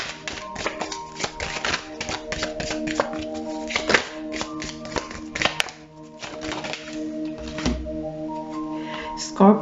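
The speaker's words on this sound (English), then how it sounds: "I'm just going to be shuffling again" Tarot cards are shuffled by hand in quick, repeated riffling and tapping bursts, close and fairly loud over soft background music.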